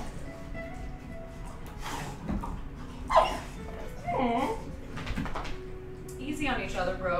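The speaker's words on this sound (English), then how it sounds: "you guys get to enjoy a nice little puppy rumble" Puppies play-fight at close range with scattered growls, yips and whimpers, while someone talks over the scuffle.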